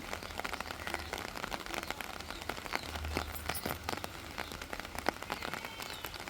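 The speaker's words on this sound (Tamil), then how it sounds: "நல்லா மழை பெஞ்சிக்கிட்டு இருக்குது" Heavy rain pours down steadily close by, a dense, unbroken hiss of drops with scattered louder splashes and no voices.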